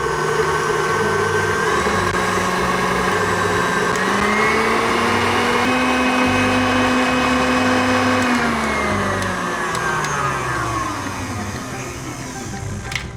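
An electric mixer whipping egg whites for a lamington coconut cake, a steady close motor whine that climbs in pitch as the speed is raised, holds, then eases back down near the end.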